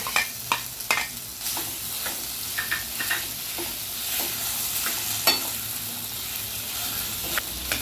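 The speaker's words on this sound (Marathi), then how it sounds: "फोडणीचा मसाला गरम झालेला आहे तर त्याच्यामध्ये आता उकडलेल्या बटाट्यांचे काप आपण टाकून घ्यायचे" Boiled potato slices being stirred into a hot spiced tempering in a pan, a steady sizzle broken by repeated sharp scraping stirs, close and fairly quiet, with no talk.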